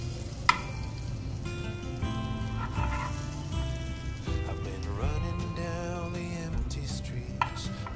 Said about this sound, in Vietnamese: Bơ tan chảy rất là nhanh quá.